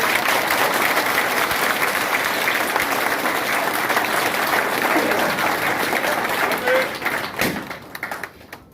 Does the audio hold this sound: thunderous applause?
yes